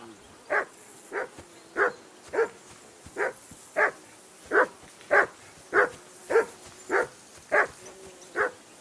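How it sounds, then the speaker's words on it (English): A dog barks repeatedly in the medieval role-playing game Kingdom Come: Deliverance 2, about thirteen evenly spaced single barks at a moderate distance, steady and insistent, over a quiet ambient background. "Jesus, Henry, that barking's driving me nuts!"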